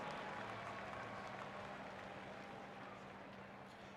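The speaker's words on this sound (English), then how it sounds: "The Seattle crowd erupts as they go across the finish line." A Seattle crowd cheers at the Formula Drift finish, a faint, distant wash of applause and roar that slowly fades over a low steady hum.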